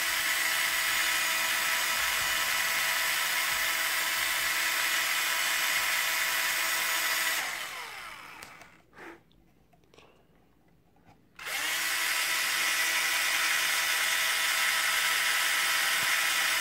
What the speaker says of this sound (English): So we're going to start drilling holes like that.